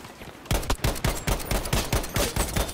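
Rapid bursts of automatic gunfire from a Battlefield 5 firefight, a steady rattling string of close, loud shots that starts after a brief quiet lead-in.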